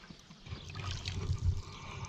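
Water pours and trickles onto newly planted hens and chicks succulents in a raised garden bed, a short, close, steady splash that swells briefly before easing off.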